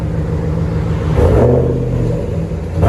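A 2015 Dodge RAM 1500 with a 5.7L HEMI V8 and Dynomax Race Bullet dual exhaust rumbles loud and close, swelling into a deep rev midway before settling back to a throaty idle.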